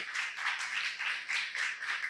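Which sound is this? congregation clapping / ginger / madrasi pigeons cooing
congregation clapping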